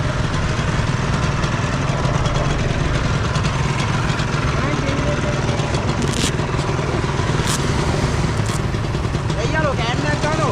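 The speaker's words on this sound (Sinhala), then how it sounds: "ඊළඟට උගේ බයික් ඉස්ටේ කළා ඊට පස්සේ" A Bajaj CT 100 two-stroke motorcycle engine runs at a steady idle, a continuous mid-pitched rumble with light clatter and scraping, close and loud throughout, with voices talking over it.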